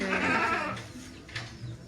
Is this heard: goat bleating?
yes